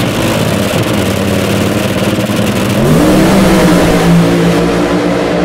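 A nitro-burning AA/FC funny car launches off the drag strip starting line, its loud engine roar steady and then climbing in pitch partway through, with no talk over it.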